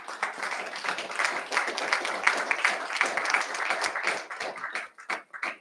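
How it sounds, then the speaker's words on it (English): Audience applause fills a real estate expo hall, a dense, steady wash of many hands clapping for a co-sponsor, holding loud for several seconds before thinning into scattered claps at the end. "Give him a round of applause."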